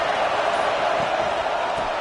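Dense football stadium crowd in a Florida State–Florida game, a loud sustained roar of cheering and noise filling the whole clip with steady intensity.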